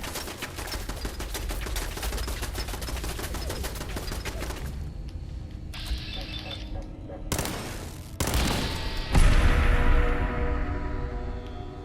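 A Goo Maker weapon fires in a video game: a rapid, steady stream of repeated shots for several seconds, then scattered bursts and a louder blast near the end.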